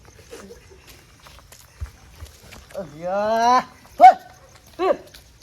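A dog barks a few times in short, separate bursts between quiet gaps, fairly close and loud.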